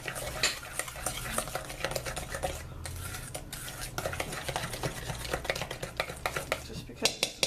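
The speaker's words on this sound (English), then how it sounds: "Just stir this up pretty good." A spoon stirs a cinnamon roll coffee cake mixture with flour in a bowl, giving soft, repeated scraping and clicking taps, close and fairly quiet.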